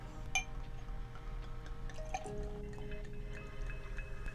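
A glass of Prosecco poured at a cruise ship meal, a gentle liquid trickle with light fizzing and small glassy clinks over a low room hum.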